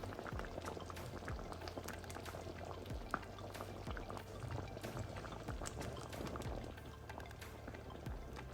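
Stew peas with chicken foot bubble in a covered pot, a continuous low burble of boiling liquid with scattered small pops and clicks, close and quiet.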